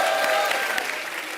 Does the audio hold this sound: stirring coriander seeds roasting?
no